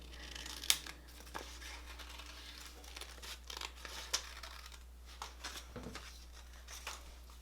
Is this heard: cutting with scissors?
yes